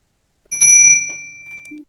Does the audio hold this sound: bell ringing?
yes